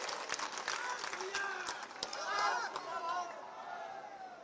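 Audience at a BSP political rally in Khurja, Uttar Pradesh, breaking into scattered applause, a few sharp distinct claps over a murmuring crowd, fairly distant and somewhat faint.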